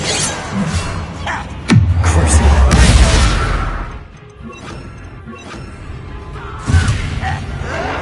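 In the video game Hogwarts Legacy, a Confringo spell blast lands with a sudden loud crash and a deep rumbling boom that fades over a couple of seconds, followed by lighter thuds and a second smaller impact.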